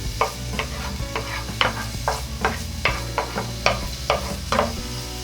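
Garlic sautés in hot cooking oil with a steady sizzle, broken by about a dozen sharp utensil scrapes and stirs spaced roughly every half second, loud and close, with no talking.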